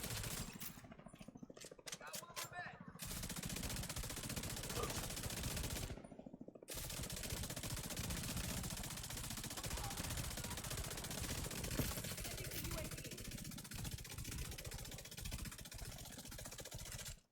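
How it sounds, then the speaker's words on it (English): Sustained automatic gunfire in The Division 2, a loud, continuous rattle of rapid shots with brief pauses near two and six seconds, layered with dense game combat noise throughout. "I'm shooting the wrong guy right now"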